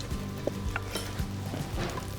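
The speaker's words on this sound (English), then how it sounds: "There's that sizzle" Sliced garlic sizzles in a hot pan with a soft, continuous crackle, mixed with a few light clinks and scrapes from a stirring utensil.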